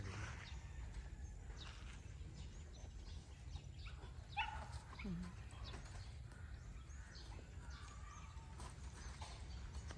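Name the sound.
dog barking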